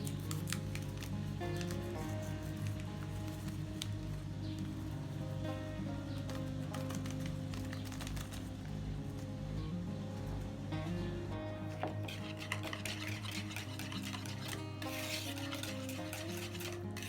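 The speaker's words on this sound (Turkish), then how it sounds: "Bunu da yumurtamızın üzerine ilave edip bunu güzelce bir çırpalım." Eggs are whisked with powdered sugar and vanilla for a quick lemon cake, giving a steady, continuous scraping and stirring in a bowl over a constant low hum, with no talking.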